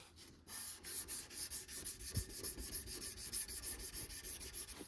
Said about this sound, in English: now I'm going to start sanding with my 800 grit